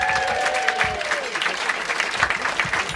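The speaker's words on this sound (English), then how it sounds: "Giving him a big round of applause." Wedding guests applauding inside a marquee for the father of the bride, a dense, steady burst of clapping throughout, with faint voices and a bit of background music underneath.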